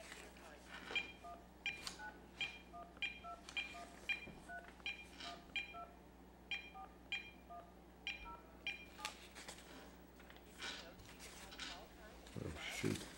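Telephone keypad tones from dialing a phone number, a rapid series of short electronic beeps in uneven bursts, fairly close and clear over faint background noise, with a louder thump at the very end.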